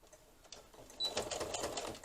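A sewing machine runs a long basting stitch around the edge of a fabric bag, starting soft and turning louder midway into a steady, close, fast mechanical whirr with no voices.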